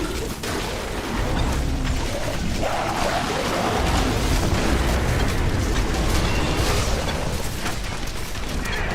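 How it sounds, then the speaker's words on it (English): Grenades exploding in Diablo 3 as a Demon Hunter fights: a continuous, loud roar of overlapping blasts and rumbling booms with no pauses, dense and steady from start to finish. "Here, have some grenades."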